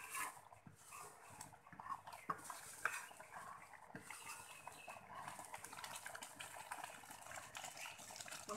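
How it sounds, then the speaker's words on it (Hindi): A spoon scrapes and clinks steadily against a pan while roasted semolina is stirred for upma, giving repeated close, faint metallic scrapes and knocks at an uneven rhythm, with no talking. "और चला देंगे, चलाते रहेंगे।"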